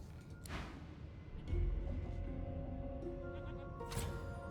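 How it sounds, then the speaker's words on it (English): Sheep bleat in a video game, with two short, clear bleats near the start and end over a soft, steady game background. "Off to the herd, little sheep."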